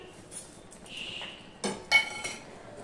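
A metal spoon adding sugar to a pot of simmering bean and vegetable curry gives a few light clinks and taps against the pot, close and fairly soft, with faint scraping between them and no talking.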